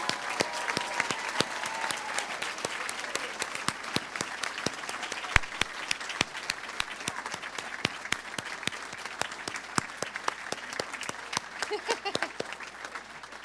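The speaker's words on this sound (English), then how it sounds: "all deserve a round of applause from everyone" Sustained crowd applause at a physician assistant program graduation celebration, dense steady clapping from many hands filling the hall for the full stretch, fairly even in loudness throughout.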